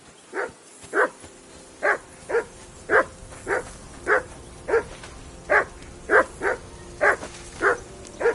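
A hound in Kingdom Come: Deliverance 2 barks in a steady run of about fifteen sharp, evenly spaced yelps with whimpering tones, fairly close and alone without talk.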